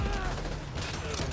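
Rapid sustained gunfire from stationary sentry turrets in Death Stranding 2, a dense continuous rattle of shots at steady volume throughout.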